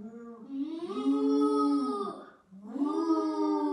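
A person imitates a cow mooing during a children's pilates session, giving two long, drawn-out vocal moos, the first sustained and the second starting after a short breath, in a quiet room.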